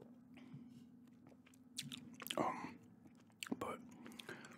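Gum is chewed close to the microphone with wet smacking and crunchy bites, while a soft whispering voice talks in between the chews.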